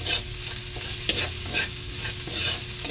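Ginger and bok choy stir-fried in a hot pan, with a steady sizzle and repeated scraping strokes of a spatula as the vegetables are tossed in an even rhythm, close and clear with no talking.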